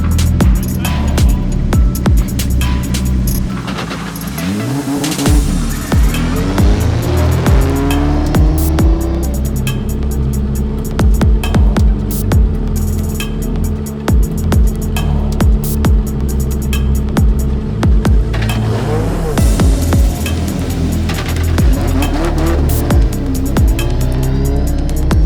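Drift cars battle on track at a Drift Masters round in Riga, engines screaming through repeated rising and falling revs with tire squeal. The sound is loud and continuous for the whole stretch.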